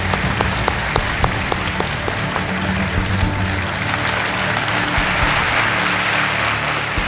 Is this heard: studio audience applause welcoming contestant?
yes